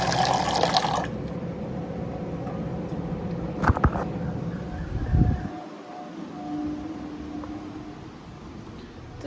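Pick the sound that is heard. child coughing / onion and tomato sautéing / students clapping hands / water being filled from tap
water being filled from tap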